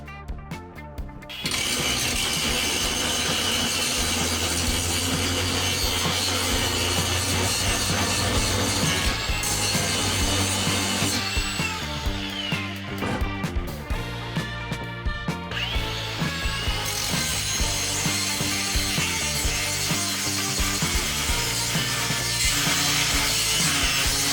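A brushless angle grinder on its lowest speed whines continuously at a steady pitch while cutting a slot, loud and close, with a grinding, rasping edge throughout.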